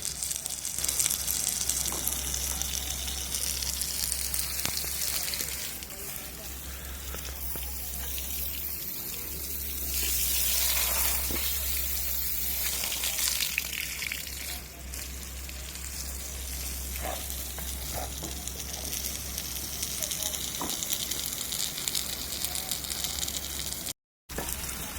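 Water is sprayed steadily from a hose onto a freshly cast concrete plinth beam to cure it, a loud, continuous hiss and splash close by that surges briefly midway, with no talking.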